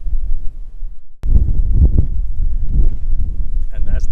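Strong wind buffets the microphone at a high, exposed viewpoint on Milos Island, Greece, a loud low rumble that starts abruptly and continues gustily throughout.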